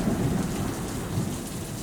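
Heavy first monsoon rain pours steadily on hot Mumbai streets in June 1980, with deep thunder rumbling throughout; a dense, continuous roar with no pauses and no voices.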